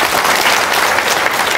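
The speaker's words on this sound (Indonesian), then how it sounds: "Tepuk tangan dong, luar biasa." Dense, steady applause from a seminar audience fills the whole stretch, loud and close, with no voice standing out above it.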